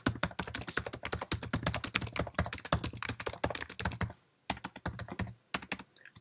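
Rapid, steady typing on a Mac keyboard while writing an email in Outlook: dense, close key clicks in quick bursts, with two brief pauses near the end.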